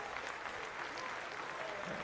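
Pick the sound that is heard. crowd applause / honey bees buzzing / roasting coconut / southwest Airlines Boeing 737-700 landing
crowd applause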